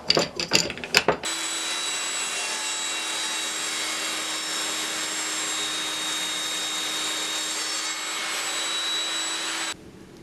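A power saw whines steadily through a plywood fence piece after a few sharp knocks, running at an even pitch for several seconds before cutting off abruptly.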